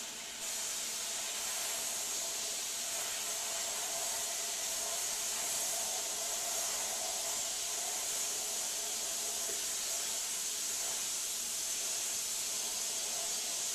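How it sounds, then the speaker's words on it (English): Sandblaster with a 3/32 nozzle at 20 psi blasting glass held by hand, a continuous loud hiss of rushing air and grit that runs steadily through the whole passage with no pauses. "Still, we're going to blast at 20 pounds of pressure, and we're just going to hold this on with our hand and go in and blast it."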